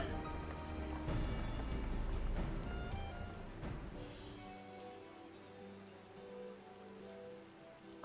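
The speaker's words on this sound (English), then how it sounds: "Oh, it's raining." Steady rain in the game Final Fantasy XIV: Dawntrail patters over a low rumbling background, with a sustained droning tone and a few scattered louder drops, no talking.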